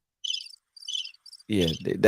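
Crickets chirp in three short, shrill bursts close by, followed by a brief voice speaking.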